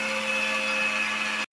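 A mixer grinder whirs steadily at high speed while grinding roasted spices into a coarse powder, close and loud, then stops abruptly after about a second and a half.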